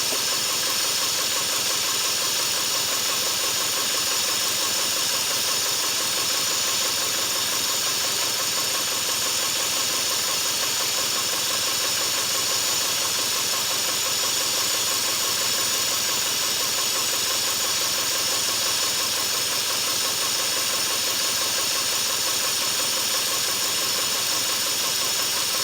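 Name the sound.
four-cylinder engine running on two cylinders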